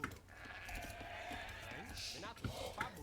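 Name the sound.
sheep bleating in a strategy video game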